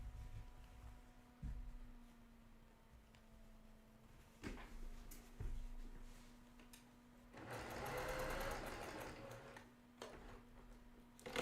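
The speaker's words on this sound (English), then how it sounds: "I'm going to sew that from corner to corner along the diamonds" A sewing machine stitches quilt pieces corner to corner along diamond shapes. A steady whirring run stands out in the middle, with scattered clicks and taps before and after in a quiet room.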